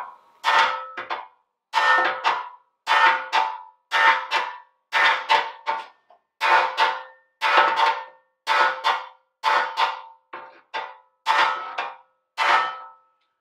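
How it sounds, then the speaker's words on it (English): A Ferguson TED20 tractor wheel rim is hammered from the outside against a dolly held inside, producing about fifteen loud, ringing metallic clangs at a steady pace, each separated by a brief silence. "we'll just hammer this in from the outside"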